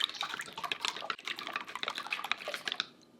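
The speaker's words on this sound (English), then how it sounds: "Whisk." Eggs are whisked in a bowl with salt and a cornstarch-and-water slurry, making a fast, dense, continuous clatter of wire against the bowl that runs steadily and then stops abruptly near the end.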